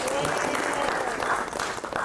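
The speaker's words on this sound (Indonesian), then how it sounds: "tepuk tangan lagi sekali" An audience at a literary appreciation evening with a panel claps in a dense, steady round of applause throughout, loud and close, with no talk.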